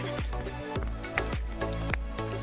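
Water drips and trickles steadily from a waterfall into a pool near a forest cave temple, a rhythmic series of close, distinct drops over a wet, continuous background.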